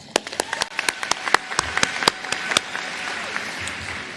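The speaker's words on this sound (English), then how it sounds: "I think that deserves an applause." Audience applause at a Nicholas School undergraduate commencement ceremony, starting as a few distinct near claps and swelling into steady clapping from the crowd, no talk over it.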